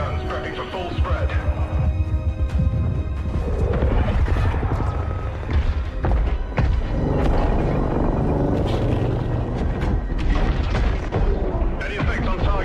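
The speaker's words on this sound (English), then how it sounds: "Charging main guns, prepping for full spread." Spaceship main guns unloading a full spread in Star Citizen: repeated heavy booming shots and rumbling impacts over a chaotic battle, with radio voices talking throughout.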